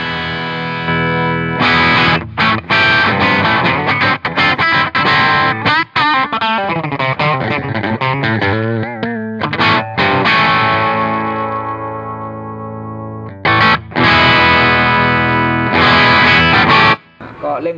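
Electric guitar played through a British Classic overdrive pedal set to MOSFET mode, giving loud, sustained distorted chords and single-note lines with brief pauses between phrases.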